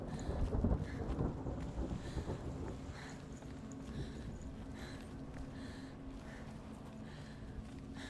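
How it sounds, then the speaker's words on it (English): A deep, rumbling roll of thunder in Hellblade: Senua's Sacrifice swells early, then fades into a low, steady storm rumble with faint rain, moderately quiet and continuous. "That specific, like, roll of thunder is far too satisfying for its own good."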